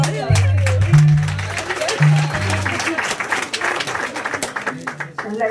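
Applause at a festive community celebration in Xepepen, Joyabaj, Quiché, with cake, scattered claps under sustained voices and a low hum throughout, with people talking over it.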